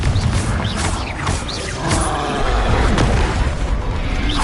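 A heavy Confringo explosive spell blast booms in Hogwarts Legacy, a deep, loud burst with rumbling low-end impact and a short crackling tail amid the clamor of a magical duel.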